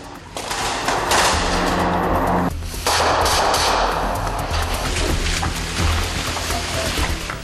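Rapid bursts of gunfire crackle continuously during a military training exercise in a tunnel, loud and close, with a brief pause in the middle before the shooting resumes.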